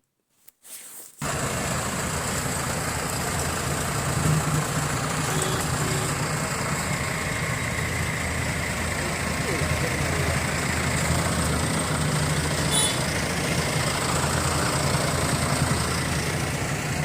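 After a brief thump, a diesel tractor engine idles steadily nearby, a constant low chugging rumble that holds throughout with no talk.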